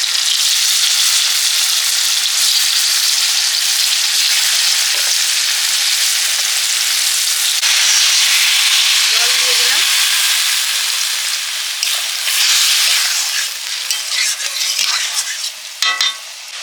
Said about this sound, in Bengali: এখন করছি ওল ভাজা